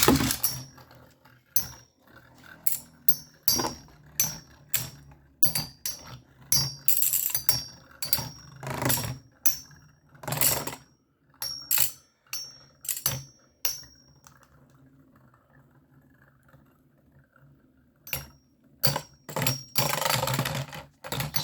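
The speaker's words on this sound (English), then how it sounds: "so got some interesting clashing going on in here" Beyblade Burst spinning tops clash inside a Chaos Core Beystadium arena, producing a run of sharp plastic clicks and rattling bursts. The impacts come in irregular clusters, briefly go quiet, then resume.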